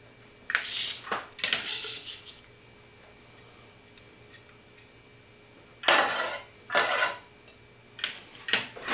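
Minced garlic tossed into a cooking pot, heard as several bright clattering and scraping bursts of metal and utensils, separated by quiet gaps, close by with no voices.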